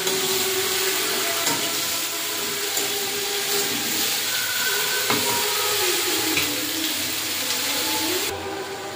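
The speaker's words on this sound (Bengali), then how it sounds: "কুমড়োটা ভাজা ভাজা করে নিয়েছি।" Raw pumpkin pieces frying in spices in a pan give a loud, steady sizzle that runs unbroken, with faint scraping of stirring and no voices.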